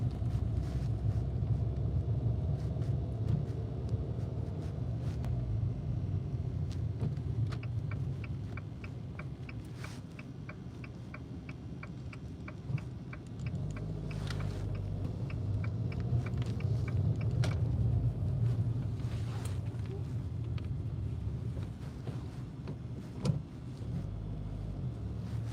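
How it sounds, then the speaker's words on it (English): Car rolling slowly into a parking lot, a continuous low road rumble and cabin hum with faint clicks and a brief thump near the end, steady and close throughout. "We have pulled into the parking lot."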